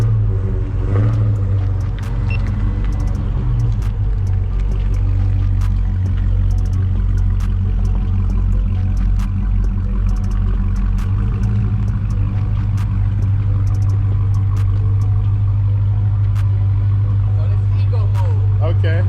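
A Dodge Hellcat idles with a deep, steady exhaust rumble that holds loud and even throughout, with a few slight swells, while people talk over it.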